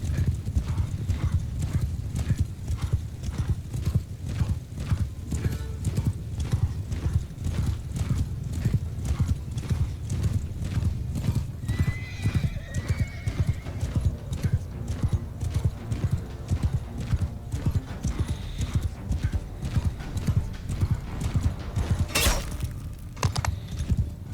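Horses in the video game Mount & Blade II: Bannerlord, with cavalry and horse archers in battle, gallop in a rapid, continuous clatter of hooves. A few neighs rise over the din, along with occasional metallic impacts.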